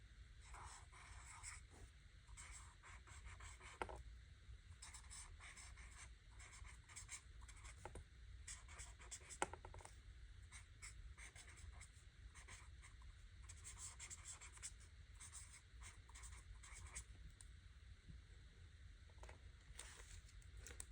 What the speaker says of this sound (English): And I am going to write an affirmation.